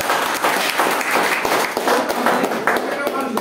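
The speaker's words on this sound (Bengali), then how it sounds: "সবার জন্য একটা তালি হওয়া উচিত।" An audience at a network marketing leadership seminar applauds with dense, steady clapping that fills the room and sustains at a fairly loud level throughout.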